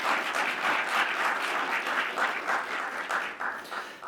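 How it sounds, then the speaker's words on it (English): Warm, steady applause fills the room at a classical concerto recital, a thick crowd of clapping that holds for several seconds and then begins to thin out and taper off. "Can we have a round of applause for all of those support?"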